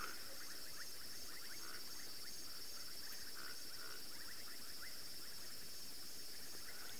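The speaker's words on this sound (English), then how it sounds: "in the background I can hear some frogs just trying to call us" Frogs call at dusk on a safari drive, a faint, continuous chorus of short pulsing calls blended with a steady high insect drone, distant and with no talking.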